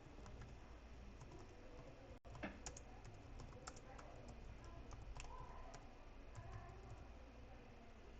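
Text being typed on a computer keyboard while working in a diagramming tool, steady quiet clicking of keys throughout with one brief pause, no talking.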